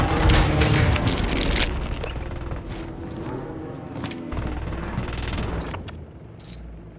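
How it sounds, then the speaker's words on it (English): A precision airstrike in a Call of Duty match sets off a heavy, rumbling burst of explosions that begins loud and continues as a sustained roar of booms and crackle, then dies away toward the end. "precision airstrike inbound"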